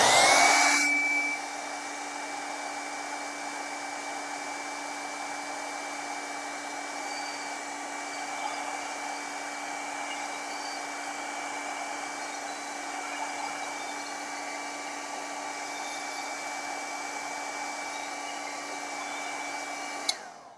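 A hair dryer blows steadily to dry Inktense paint on a tree frog painting, a loud continuous whir with a tonal hum running unbroken for about twenty seconds before cutting off at the end.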